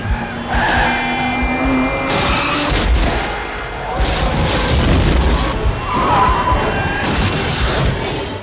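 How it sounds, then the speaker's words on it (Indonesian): Cars skid, crash and smash during a chase in a movie, with loud bursts of screeching tyres, impacts and rapid bangs layered over engine roar and dramatic music. "Entah sudah berapa banyak mobil yang hancur akibat aksi ini."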